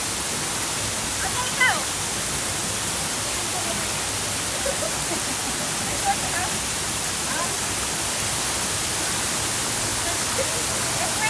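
River water rushes in a steady, loud broadband roar as people wade across a river on a rainy day, nearly masking everything, with faint voices buried underneath.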